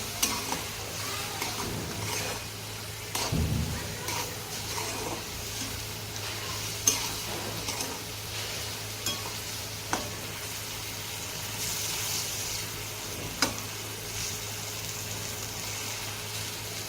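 Peanut powder is stirred into a yogurt and green chili mixture in a pan, giving a steady low sizzle broken by periodic scrapes and knocks of the spoon. A faint steady hum runs underneath, and no one talks.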